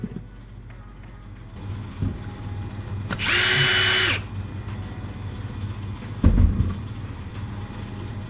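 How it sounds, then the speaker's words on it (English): A power tool, likely a drill or impact driver, undoes bolts holding a pump on a boat being stripped for an Atlantic crossing, giving one close whirring burst of about a second over a steady background hum, followed by a clunk. "by undoing these kind of bolts here and there,"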